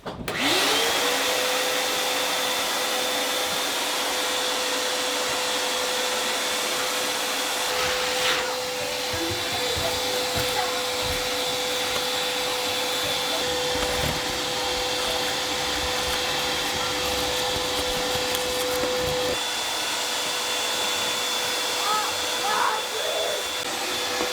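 A large vacuum cleaner runs continuously with a steady high whine and airy roar, loud and close, with occasional bumps and clatter.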